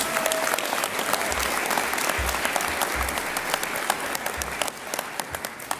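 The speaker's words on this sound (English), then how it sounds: "How about another round of applause for all of our Congress leaders?" An audience at a formal DeMolay International Congress session gives a steady round of applause for its Congress leaders, dense clapping filling the room throughout and thinning slightly toward the end.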